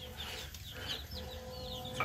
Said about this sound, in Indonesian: Soalnya ini anak ayamnya tuh udah banyak ya Manya.